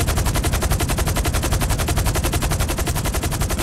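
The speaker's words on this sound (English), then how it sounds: "I can hear the shots." Rapid, continuous automatic gunfire in GTA 5 Online rattles loudly without pause, a dense stream of shots.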